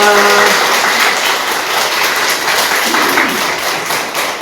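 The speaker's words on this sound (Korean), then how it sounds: "박수 부탁드립니다" Dense applause from a church congregation fills the space, loud and continuous at first and then thinning a little toward the end, with a brief tone at the start.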